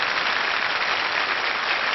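A TV studio audience claps for Sheila in a dense, even wash of applause that holds steady at one level throughout. Heard alone, with no voices.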